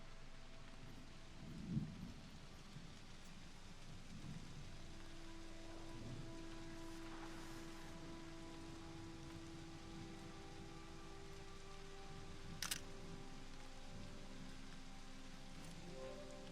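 Steady rain falls throughout a scene in the video game Season: A Letter to the Future, with a dull rumble of thunder near the start and a brief sharp crack later, no voices present.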